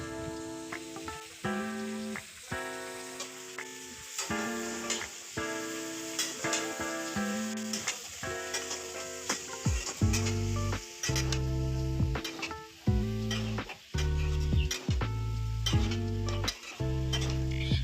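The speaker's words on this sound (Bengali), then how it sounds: "ঝিঙে এবং আলু ভালো করে ফ্রাই করে নিচ্ছি" Ridge gourd and potato pieces frying together in a pan for a Bengali vegetarian posto dish, with a continuous sizzle and repeated stirring scrapes, and no talking.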